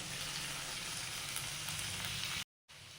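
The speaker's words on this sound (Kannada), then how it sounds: "ಫಸ್ಟ್ ಫ್ರೈ ಮಾಡ್ಕೊಂಬಿಡಿ. ಈರುಳ್ಳಿ ಮತ್ತು ಮೆಣಸು ಹಾಕ್ತೀನಿ." Garlic, onion and chili frying in a pan give a steady, close sizzle that crackles continuously, then cuts out briefly near the end before resuming.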